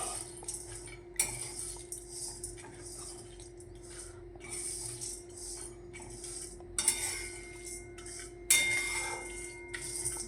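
Tea masala spices dry-roasting in a pan on a gas stove, with a spoon clinking and scraping against the metal in a steady, irregular rhythm. A few sharper knocks stand out, and no voices are heard.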